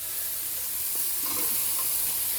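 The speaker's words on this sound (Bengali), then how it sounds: "এখন করছি পালন শাক ভাজা" Spinach with peas and green chillies sizzles in a pan while being stirred, a continuous close frying hiss with a few soft scraping strokes.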